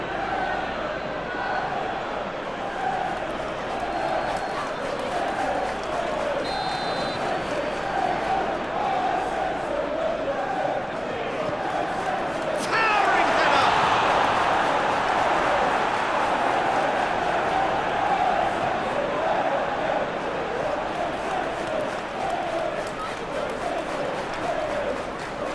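Stadium crowd noise from a PES 2021 football match, Manchester City vs Liverpool, a steady broad roar that swells into louder cheering midway and stays raised, with commentary voices faintly underneath.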